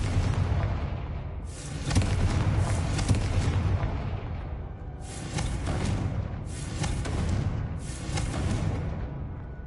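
Repeated Confringo fire-spell blasts from Hogwarts Legacy, heavy booming bursts that swell and fade in several waves over a sustained rumbling game soundscape, loud and close with no talk.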